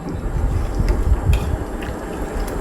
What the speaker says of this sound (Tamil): மிக்சி ஜாரை நல்லாவே கழுவி அந்த தண்ணி இதில் சேர்த்துக்கிட்டு